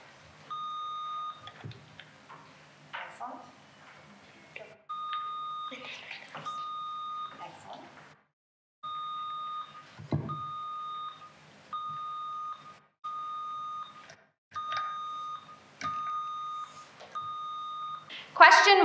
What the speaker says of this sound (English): let's do a buzzer check to make sure everything is working